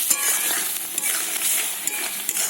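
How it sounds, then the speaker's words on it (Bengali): Masala spices sautéing with a little water in a pan for a rohu fish curry, a continuous close hiss and bubbling sizzle with small scraping sounds of stirring throughout. "জল দিয়ে মশলাটাকে আবারও 1 মিনিট মতো আমি কষে নেব।"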